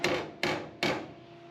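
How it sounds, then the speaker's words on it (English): Three evenly spaced hammer taps on a metal panel of an HG Holden Ute under repair, each a bright ringing strike that decays, close up with no talking. "So then you just use your hammer."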